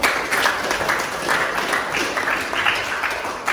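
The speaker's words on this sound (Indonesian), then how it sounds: "Tepuk tangan dulu." A small audience at an Indonesian coaching and academic supervision session claps together, a steady, moderately loud patter of hands lasting the whole stretch with a slight swell and fall, no voices over it.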